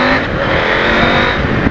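A KTM 890 Adventure motorcycle fitted with an aftermarket AliExpress exhaust pipe runs with a steady, loud engine drone that holds close and even throughout, without speech.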